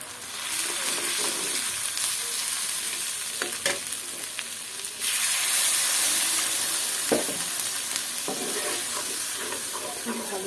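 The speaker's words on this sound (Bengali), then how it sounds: "খুব ভালো করে মশলাটা কষাই নিই" A spice mix sautés for egg curry in a pan, giving a steady sizzling hiss with intermittent scraping stir strokes, the frying growing louder partway through.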